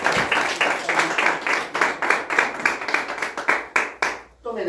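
A church congregation claps in unison, a strong rhythmic beat of synchronized hand claps repeating steadily before stopping abruptly near the end.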